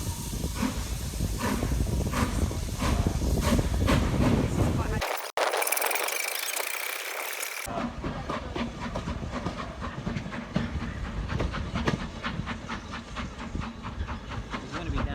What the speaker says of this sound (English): first I thought I'd film our train departing, continuing its way down to Kidderminster